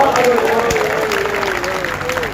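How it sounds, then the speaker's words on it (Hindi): Audience clapping at a Hindi poetry gathering (kavi sammelan), a dense wash of many hands, loud and close, with a voice speaking or calling out over it throughout. "एक बार जो तालियां बजाएं"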